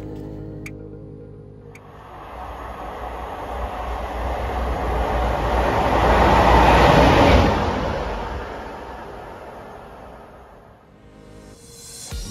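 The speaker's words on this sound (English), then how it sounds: "my service to Nottingham arrived into platform 3 with a Class 170" A Class 170 diesel multiple unit pulls into a platform on a Nottingham service, its rumble and rail noise swelling steadily to a peak mid-way before easing as it slows, with no voices.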